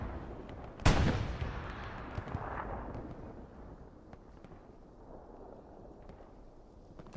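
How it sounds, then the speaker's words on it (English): Gunfire in the Hell Let Loose video game, a 49 versus 49 competitive console match: one loud, sharp blast followed by a long rumbling decay, with scattered distant shots over a steady low battlefield roar. "gotta react to gunfire"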